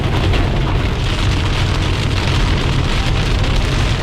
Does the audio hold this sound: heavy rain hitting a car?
yes